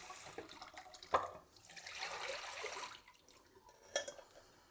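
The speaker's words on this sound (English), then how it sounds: "So just a quick rinse under cold water." Cold tap water runs over rice noodles in a kitchen sink with a steady, close splashing rush. A few sharp clinks of a bowl or strainer break through, and then the flow eases off.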